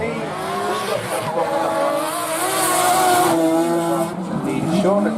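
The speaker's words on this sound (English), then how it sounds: "now he's just doing a rolling burnout behind Sean Devine" Drift car at the British Drift Championship doing a rolling burnout, engine roaring with a sustained tire squeal that swells and fades over several seconds, with a commentator talking over it.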